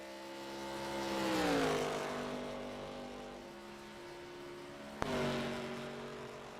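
A race car engine in a racing video game rolls out for a qualifying run, a smooth droning tone that swells as it revs, eases off and holds steady, then kicks up again near the end with no talking.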